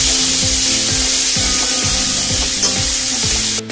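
Onions and grated ginger fry in a pan while being stirred for aloo parval sabzi. A loud, continuous sizzle carries regular scraping strokes of a spoon, about two per second, and there is no talking.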